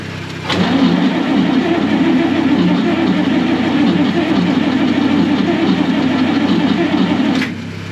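Clark Cortez motorhome engine catches and settles into a steady, loud idle with a continuous low rumble for several seconds, then cuts off near the end.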